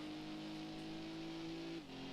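A race car engine in Gran Turismo 2 holds a steady high tone, then drops sharply in pitch near the end as it shifts or eases off, sounding close and continuous.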